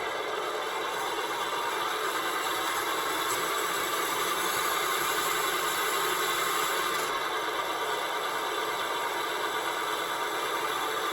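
A 1/14 scale RC Mercedes Zetros 6x6 overland truck backs up at partial throttle, its electric drivetrain giving a steady, even whine with a light rattle throughout and no pauses.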